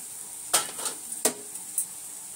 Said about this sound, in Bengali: সয়াবিনটা কষাতে বসিয়েছিলাম, কি হচ্ছে